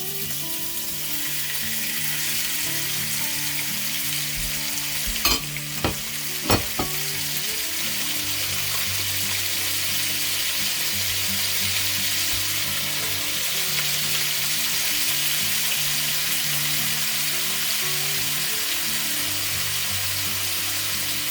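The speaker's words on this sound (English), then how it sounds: "we're just wanting to sear this, so we're just going to kind of turn it a little bit until it's good and brown" Pieces of meat for carne guisada sear in hot oil, with a steady loud sizzle and crackle close by. A couple of sharp clinks from the pan or utensil come through while the meat is turned.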